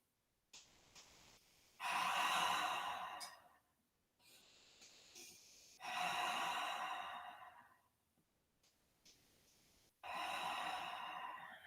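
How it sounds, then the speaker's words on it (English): Three slow, deep breaths taken during a yoga pose, each a long airy inhale or exhale swelling and fading, separated by short quiet gaps, close and alone without talk. "Take 3 breaths"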